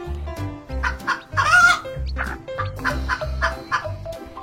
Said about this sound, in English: There is a cute couple hen.